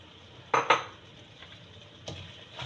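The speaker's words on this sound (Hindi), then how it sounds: "मेथी डाल के इसको हम भून लेंगे अच्छी तरह मिक्स करके इसको।" Keema with peas and fenugreek being stirred in a pot, with two sharp spoon-on-metal scrapes close together, then softer clinks later, over a quiet background.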